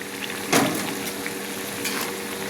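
Potatoes and green chillies fry in a pan with a continuous sizzle, broken by a sharp burst of hissing and stirring scrapes near the start and another swell toward the end.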